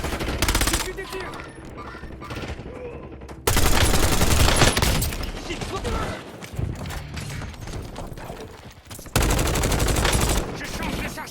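Rapid bursts of automatic gunfire in the shooter game Warzone, loud and close, coming in dense volleys with short lulls between them and a final heavy burst near the end.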